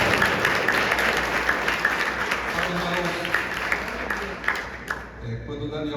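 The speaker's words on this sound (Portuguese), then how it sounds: "Vamos aplaudir o Senhor mais uma vez, bem forte." A church congregation applauds strongly during an anniversary service, with steady dense clapping throughout and a brief dip near the end.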